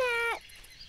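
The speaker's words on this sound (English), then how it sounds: "all I do is I meow so the dog starts coming over here" Short cat meow from the Duck Dynasty video game, a single clear harmonic mew lasting about a third of a second, then quiet.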